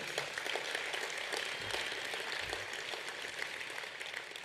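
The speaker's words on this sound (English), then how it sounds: "To our playing group, yeah, give them a round of applause, they deserve it." Faint, distant applause from a club audience at an awards night, honouring the playing group; a steady wash of clapping runs through the whole stretch with no clear voices.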